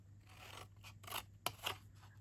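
Scissors make a few quick, quiet snips while mitering card for a paper treat box, with the sharpest cut near the middle of the clip.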